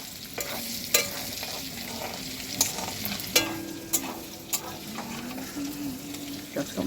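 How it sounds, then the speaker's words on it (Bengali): Capsicum pieces frying in a pan, a close, continuous sizzle broken by regular clanks and scrapes of a stirring spoon, no voices. "দেখো তোমরা ক্যাপসিকামগুলো দিয়ে কি সুন্দর ভাজছে"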